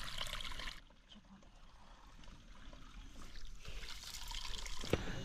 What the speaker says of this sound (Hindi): ये देखिए बगल पे पानी भी निकल रहा